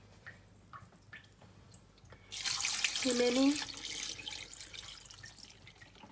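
Water poured from a tap into a pot of goat tripe, a loud splashing rush that starts suddenly partway through and keeps running, after a brief spoken remark.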